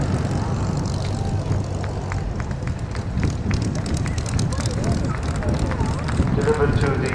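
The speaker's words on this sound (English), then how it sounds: "One of the United States' most important warplanes in the Second World War." A WWII-era American propeller warplane flies past at an RAF Cosford airshow, its engine a loud continuous roar over a crowded, noisy outdoor background, with a voice talking over it.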